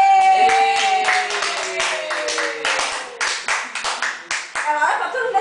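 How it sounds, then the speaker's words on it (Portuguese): Family members clap in rhythm to cheer a child taking first steps at home, sharp regular claps near the microphone while voices talk and sing over them. "tá todo mundo batendo palmas"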